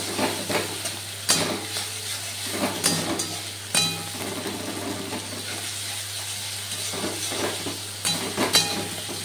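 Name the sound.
ginger and green chili paste frying with spices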